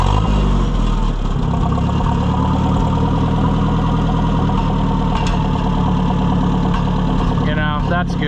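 An Oliver 550 tractor engine idling after a tune-up, a loud steady low chugging rumble throughout, with a person talking briefly near the end.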